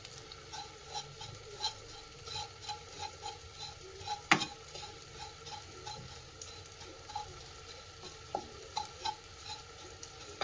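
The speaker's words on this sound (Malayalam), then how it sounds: "ഈ തേങ്ങ ഞാൻ ഒന്നുകൂടെ ഒന്ന് ചൂടാക്കി എടുക്കുക" Previously roasted grated coconut being reheated and stirred in a dry pan: faint, close scraping strokes of a spatula in a quick, uneven rhythm, with one sharper knock midway and no talking.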